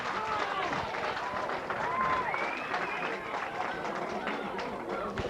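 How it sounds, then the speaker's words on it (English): Crowd at a minor hurling final cheering and clapping after a score, a broad sustained roar with a commentator talking over it. "The crowd enjoying every moment of it."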